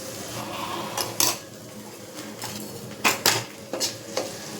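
Ginger garlic paste going into softened onions in a frying pan, with several sharp spoon-on-pan scrapes and clinks over a soft background sizzle, no talking.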